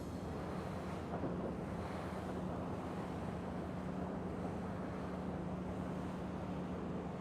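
A Marine Mito 45 motorboat cruising at 25 knots on diesel engines, heard as a steady broadband rush of hull, water and wind with a low, even engine hum underneath, constant throughout and without talk.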